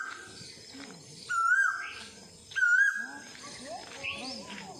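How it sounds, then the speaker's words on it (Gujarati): An Asian koel calls twice in rising whistled phrases, loud and fairly close, near a temple cave, with outdoor chatter and background voices around it. "કોયલનો અવાજ જોરદાર આવે છે"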